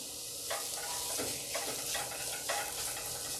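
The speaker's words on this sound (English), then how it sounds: "We put in our onions and we're going to start to let those brown." Chopped onions sizzle steadily in hot olive oil in a pan, with a few soft stirring scrapes breaking through a continuous close frying hiss.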